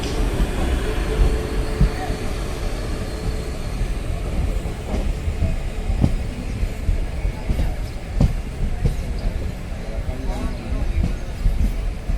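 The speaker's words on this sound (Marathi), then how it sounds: "आपली आता ट्रेन आलेली आहे रत्नागिरी स्टेशनला" A train arriving at Ratnagiri station rumbles steadily with a low, continuous roar and periodic clanks and knocks from the wheels, filling the whole stretch.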